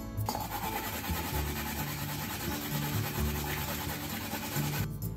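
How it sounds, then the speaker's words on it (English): An onion being grated into a bowl for a tonteki pork steak sauce, a steady, close rasping scrape running continuously for about five seconds. "Let's grate this into the bowl."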